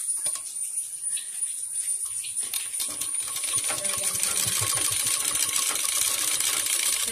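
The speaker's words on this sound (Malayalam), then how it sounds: "നമുക്ക് ഇതുപോലെ മടക്കി വീണ്ടും ഒന്ന് തുന്നി കൊടുക്കാം" A sewing machine stitching folded cloth for a reusable homemade face mask, quiet at first and then running steadily with a whirring, rattling motor and clicking needle for several seconds, close by with no talk.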